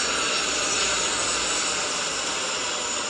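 Airplane passing overhead, a steady, loud broadband roar that holds evenly throughout with no voices over it.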